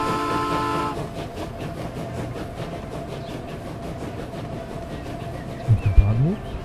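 Trains pull out of a station in the video game Transport Fever, with a steady rumbling hum and rail noise, a brief horn early on, and a short burst of clunking near the end.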